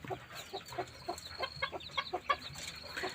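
Seven newly hatched chicks peep in quick, repeated high chirps, close by and fairly soft, with no one talking.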